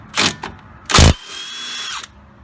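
Power tool, likely an impact gun, working a 17 mm bolt on the front strut of a 2003 Nissan Altima 3.5: two short loud bursts followed by a quieter whirring tail, close up.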